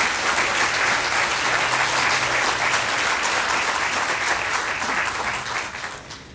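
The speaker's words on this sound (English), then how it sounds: "Let's give her a round of applause." A dense, loud audience applause at a hospital groundbreaking ceremony, a steady wash of many clapping hands with no talk that fades away in the final second.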